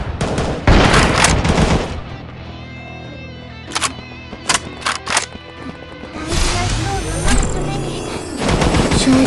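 Video game shooter gunfire: loud rapid bursts of automatic fire at the start and end, with a handful of separate sharp shots in between, set against game background sound.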